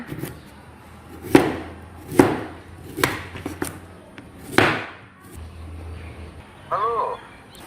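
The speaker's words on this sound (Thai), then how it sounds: "หั่นมันเทศเป็นแว่น ๆแว่นไม่ต้องหนานะคะ" Several sharp knife chops slice peeled sweet potato into thin rounds on a cutting board at irregular intervals, close and fairly loud, with a brief spoken voice near the end.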